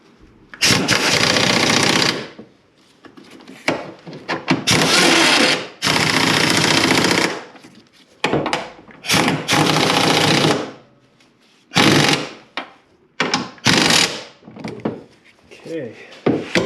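An impact wrench works on 13 millimeter nuts on a 2009 Nissan Versa, giving repeated loud, close bursts of rattling hammering separated by short pauses.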